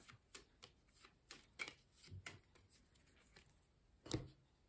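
Oracle cards shuffled by hand in a quiet room, a run of soft riffling flicks and short papery slaps at an uneven pace, with one sharper, louder snap near the end; no talking.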